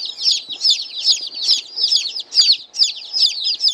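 Buff Orpington chicks peeping, a rapid continuous chorus of high, rhythmic cheeps, loud and close with no talking.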